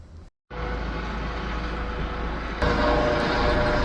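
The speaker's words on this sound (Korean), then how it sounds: "아침부터 헬기가 떠 있네요." Helicopter hovering overhead in the morning, a loud steady rotor and engine drone that cuts in after a brief gap and grows stronger partway through, with no talking.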